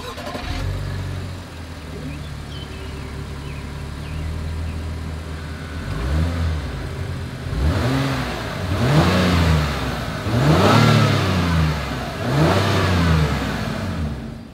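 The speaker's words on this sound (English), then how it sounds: "As always, here is that exhaust clip." A 2024 Acura MDX idles through its dual exhaust, then the engine revs four times in quick succession, each rise and fall growing louder and deeper, heard up close with no talking.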